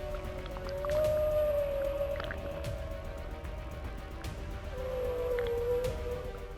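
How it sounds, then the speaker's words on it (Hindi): An adult whale and its calf call at sea, giving two faint, drawn-out tonal moans several seconds apart over a steady underwater hiss. "तेज आवाज बड़े व्हेल की थी, जबकि हल्की आवाज उसके बच्चे की।"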